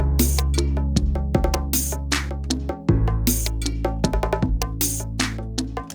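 Programmed electronic drums in Cubase play a busy pattern with rapid fills and rolls over a sustained bass and synth backing, loud and continuous.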